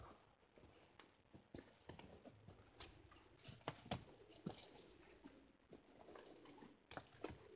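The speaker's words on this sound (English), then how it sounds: "Pigeons in here." Pigeons coo and shuffle inside Five Caves in Kingsport, Tennessee, with soft repeated calls and fluttering, clicking movements echoing at moderate distance, no talk.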